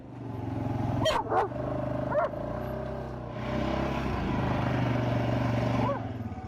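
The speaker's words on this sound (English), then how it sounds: "Their dog Jake starts to bark with excitement" Jake the dog lets out a few quick, excited barks early on, with a steady engine drone running underneath throughout.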